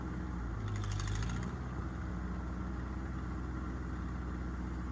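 A Ford 8N tractor engine drones steadily while plowing a small garden through loose dirt, a continuous low rumble heard from close by, with a brief higher whine near the start.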